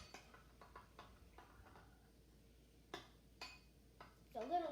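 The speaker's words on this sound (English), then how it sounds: "why don't you take your spoon and mix everything together" A spoon clinks and scrapes in a bowl while mixing berry yogurt muffin batter, a few soft taps then sharper knocks against the bowl, quiet and close with a brief high squeak at the end.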